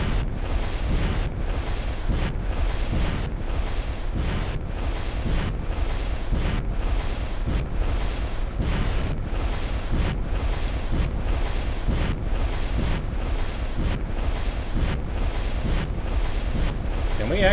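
Rocket blasts in Fallout 4 go off in a steady rapid series of loud, roaring bursts, about one per second, each with a windy rush that fills the whole stretch.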